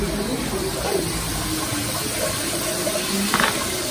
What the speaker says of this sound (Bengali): এখন ধুয়ে নিই। শাকটা ধুয়ে নিই।